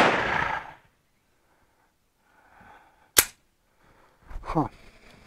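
A single sharp shot from a Star BM 9mm Luger pistol cracks out mid-clip amid quiet outdoor sounds, followed by brief rustling and a short voice.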